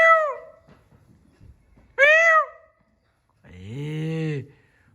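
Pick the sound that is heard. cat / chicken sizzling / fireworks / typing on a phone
cat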